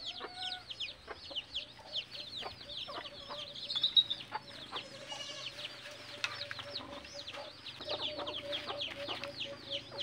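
A talisayin labuyo junglefowl rooster clucks repeatedly, close by, among chirps of other birds and a steady background hum.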